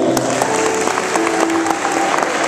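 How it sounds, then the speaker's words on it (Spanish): Steady audience applause at a Hispanic Day cultural event, dense clapping holding at an even level throughout with a faint tone running underneath. "Fuerte el aplauso para Colombia."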